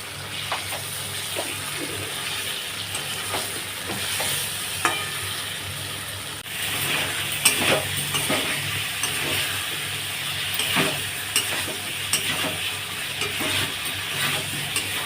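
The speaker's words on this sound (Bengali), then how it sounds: "মশলাটা ভালো করে কষিয়ে নিই" Kashmiri alur dom masala with salt and turmeric fries and is stirred in a pan, a steady close sizzle broken by repeated scraping strokes of the spoon.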